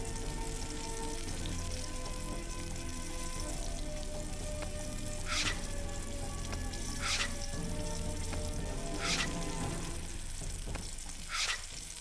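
Food sizzling on a grill in the Iron Chef Wii cooking game, a continuous frying hiss with a few sharp bright ticks and clanks rising over it, no voices.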